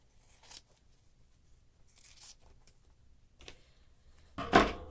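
Scissors snip through fused fabric in a few soft, sparse cuts, ending in one louder close crunch.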